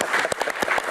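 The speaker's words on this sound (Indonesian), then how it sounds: "Oke, tepuk tangan." Audience applause bursts out briefly, a quick patter of claps at close range in a short, lively burst.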